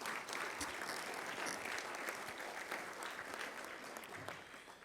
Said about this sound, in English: You may applaud the head table.